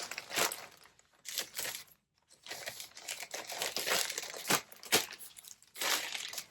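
Thin lightweight item for shipping being folded up in crinkly packaging, a run of close, loud crumpling and rustling bursts with brief pauses, no talk.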